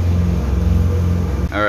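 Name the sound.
engine running at full throttle, 2,500-2,700 RPM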